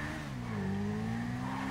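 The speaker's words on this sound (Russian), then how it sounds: "я буду летать на мотоцикле сейчас" Motorcycle engine in the video game GTA 5, a steady close droning tone whose pitch slowly climbs as the throttle opens, heard alone without talk.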